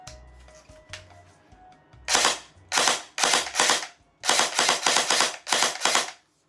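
An airsoft Fennec Vector fired on two-round burst, giving sharp paired mechanical clacks repeated in quick groups, close and crisp with short silent gaps between bursts.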